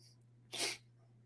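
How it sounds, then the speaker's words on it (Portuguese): A single sharp sneeze bursts out partway through, loud and close, over a steady low electrical hum with otherwise quiet surroundings. "vontade de espirrar"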